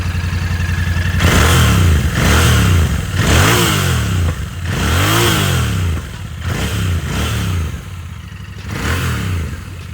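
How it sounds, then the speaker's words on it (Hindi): A Royal Enfield Bear 650 motorcycle with a 2-in-1 exhaust is revved repeatedly, giving about seven loud, close throttle blips that rise and fall in pitch over a steady, rumbling idle. "तब इसको रेव करके देखते हैं कि एग्जॉस्ट नोट कैसा है।"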